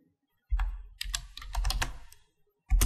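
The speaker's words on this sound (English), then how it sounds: "So I'm just going to type in" Computer keyboard typing in short bursts of quick keystrokes, close and clear with brief pauses between runs, no voice over it.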